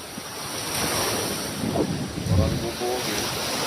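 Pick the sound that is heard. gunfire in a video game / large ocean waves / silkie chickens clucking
large ocean waves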